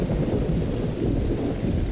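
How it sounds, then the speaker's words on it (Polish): Thunder rolls through a rainstorm in the video game Mafia, a steady, loud low rumble with rain hiss that continues without a break. "A tam fajne są te animacje piorunów."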